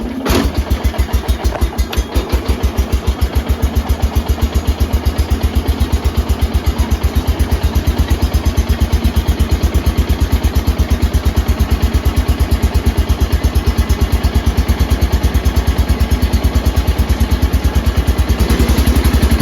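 An engine coming out of winter storage, one with stumbling carburetor trouble, cranks, fires and settles into a loud, close, steady rapid-pulsing idle.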